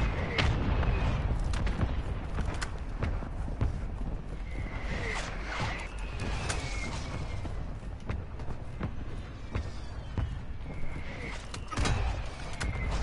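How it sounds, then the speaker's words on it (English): Mortar strike in a PS4 war game: a series of heavy, booming explosions lands one after another over a constant rumble of battle, with whistling incoming shells and scattered gunfire mixed in. "Mortar strike underway."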